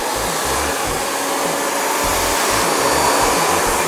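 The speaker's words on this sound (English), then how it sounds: "I usually just go through and hand blow dry it for the first little bit just to get the extra moisture out" Handheld hair dryer blow drying damp hair to remove moisture before a flat wrap blowout, a loud steady close-up whoosh with the airflow shifting as it moves over the hair, no talking.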